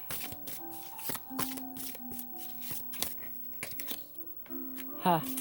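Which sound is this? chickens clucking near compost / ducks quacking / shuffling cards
shuffling cards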